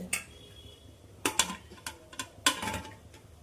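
A metal cooking pot lid clatters and clinks as it is flipped over and set down on a pot of Salem-style mutton kuzhambu, a few sharp close knocks spread over a few seconds with no talk.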